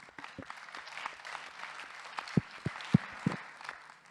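Audience at a business convention breaking into scattered applause, soft at first and then building, with a few sharp close claps standing out near the end.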